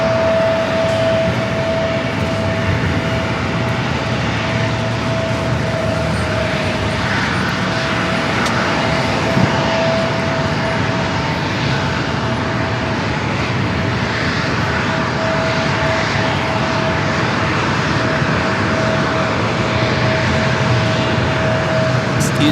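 Continuous loud roar of jet airliners at San Diego airport, including a Boeing 777 lining up for departure and an approaching UPS 767, a steady broad engine rumble with a faint whine throughout.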